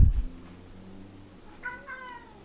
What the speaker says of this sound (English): And that's my cat Merlina in the background.